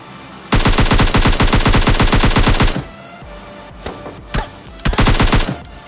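Rapid automatic gunfire in PUBG Mobile Lite while shooting a bot, a long loud burst followed by a couple of short shots and another brief burst, with quieter game sounds between.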